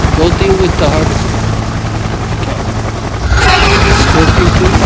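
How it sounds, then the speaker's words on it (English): A shipborne helicopter from a Giants of Cinema addon in Minecraft PE, heard as a loud, steady rotor drone with a low engine rumble that swells slightly near the end. "Shipborne helicopter."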